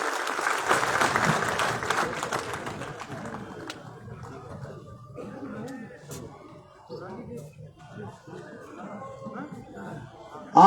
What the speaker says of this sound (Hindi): आप भी जोरदार उनके लिए तालियां बजाएं